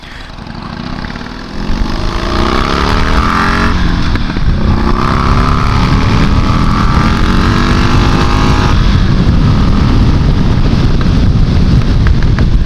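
A Buell motorcycle being ridden on FM-455, its engine close and loud with rising whines through the gears, and heavy wind rush filling the ride.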